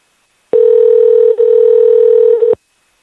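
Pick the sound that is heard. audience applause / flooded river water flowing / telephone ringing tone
telephone ringing tone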